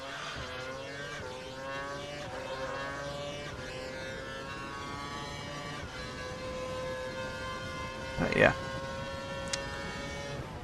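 A Formula One car from the F1 2012 video game, racing at the United States round, drones steadily at high revs with rising and falling engine pitch and a brief tire squeal near the end.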